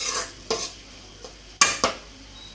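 Fish being mixed by hand with salt in a bowl for a fish fry, a few short, close, wet squelching and scraping bursts at uneven intervals with quiet pauses between, no talking.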